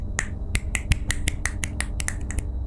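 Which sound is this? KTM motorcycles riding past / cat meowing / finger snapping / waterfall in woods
finger snapping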